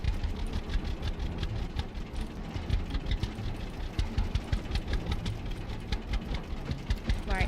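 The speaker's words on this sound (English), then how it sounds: "this is quite the slow tractor" A slow tractor engine in a farming video game chugs steadily at close range, with a low, even rumble and rapid repeating ticks, heard alone with no talk.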